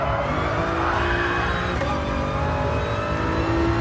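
A race car in a racing video game oversteers and skids, its engine droning loud and constant with tire noise layered over it.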